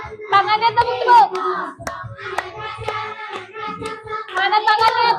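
Fourth-grade children singing the song Tokecang in a classroom while clapping their hands, sharp claps marking the beat under the high voices of the sung melody.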